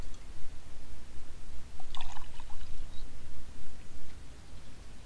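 Hot coffee pours from a thermos on a hike near Florence, a short gurgling trickle heard faintly over steady outdoor wind noise, with no one speaking.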